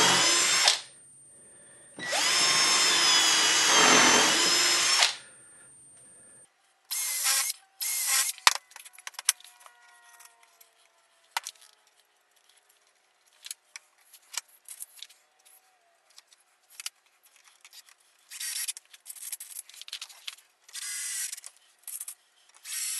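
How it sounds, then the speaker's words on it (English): A power drill whirs in a long burst, then short repeated spurts follow as screws are driven into wood, with clicks and tool handling between, close and clear. "pre-drill them and put some screws in to hold them fast"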